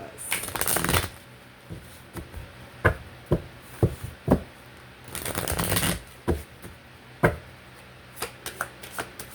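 Universe Oracle cards are shuffled by hand, with two longer riffling bursts and a scatter of sharp taps and clicks as the deck is squared and handled nearby.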